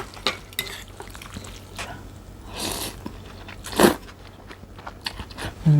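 Thin Thai rice noodles are stirred into a Burmese-style banana stem curry sauce in a bowl, with wet squelching, soft crunches and occasional utensil clinks close by, and no speech.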